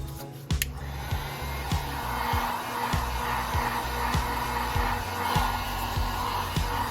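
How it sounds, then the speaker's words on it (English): A heat gun blows hot air over sculpting foam in a steady, close, breathy roar, with light irregular taps and knocks of handling scattered underneath and no talking. "I usually run the heat gun back and forth fast"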